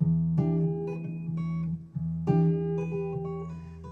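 An acoustic guitar chord rings out, with a bent note sliding up within it, then a second strummed chord follows with another bend; played alone, no talking.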